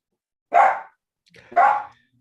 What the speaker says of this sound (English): I apologize for my canine.